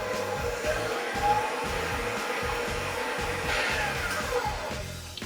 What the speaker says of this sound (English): I'm just gonna mix those together. On about level 2 to 4 if you're using a mixer